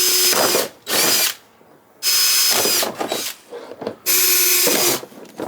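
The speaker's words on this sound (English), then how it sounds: "So I've got my drill, and I'm just going to make a series of holes" A power drill whirs in loud, close bursts, spinning up and stopping several times as it bores drainage holes through hollow plant containers, with brief pauses between.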